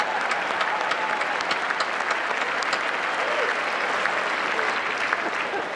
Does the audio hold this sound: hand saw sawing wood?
no